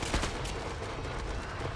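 A hard-recoiling firearm in the video game Killing Floor 2 fires in rapid bursts. The loud, close shots crack in quick succession over a thick, continuous background din.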